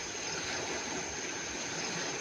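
Water in a small stream at night runs in a steady, continuous rush and trickle, close by and moderately loud, with no voices over it.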